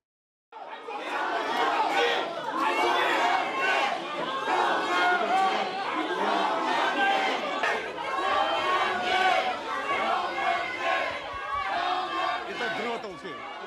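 Supporters gather outside the Seoul Central Prosecutors' Office and raise a loud, continuous crowd din of excited shouting and chanting voices, sustained and close for the whole stretch after a brief silent start.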